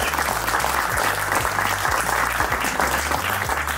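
Audience applause at a live French business-export event, a steady, dense wash of clapping from a roomful of people, loud and continuous throughout with no talk over it.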